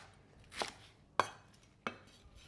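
A knife cuts spring onion into rough chunks for a quick wok stir fry. Three quiet, evenly spaced chops land on a board, each a short, sharp knock against near silence.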